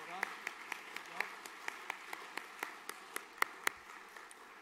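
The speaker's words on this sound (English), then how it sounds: "Let's give them a really big round of applause." Audience applause at a school chapel service, heard as a steady, fairly faint patter of many hands with sharper individual claps standing out at a regular pace.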